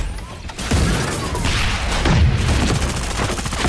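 Rapid bursts of gunfire in Super Mecha Champions, a dense crackling fusillade with dull booms, continuous and fairly loud throughout.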